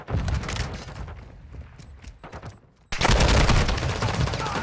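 Assault rifle fire in Call of Duty MW2 ranked play: close, loud bursts of automatic shots, then a brief lull with scattered shots, then a dense continuous burst of rapid fire.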